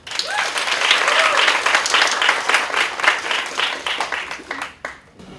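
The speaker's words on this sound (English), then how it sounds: "I think that deserves a round of applause" Warm, sustained applause from a crowd at a Mrs Africa crowning pageant, dense and loud from the start with a few cheers and voices mixed in, then thinning out and fading over its last seconds.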